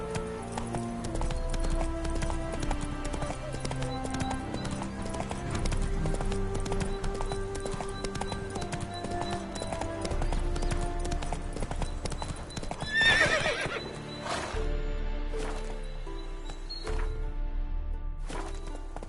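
Roach, a horse in the video game Witcher 3, gallops with rapid, rhythmic clip-clop hoofbeats and snorts a whinny midway, all set against background music.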